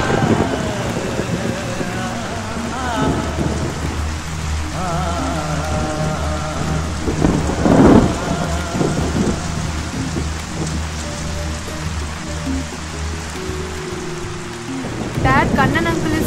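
Steady heavy rain hisses throughout, with a brief rumbling burst midway and another near the end, while people talk over it.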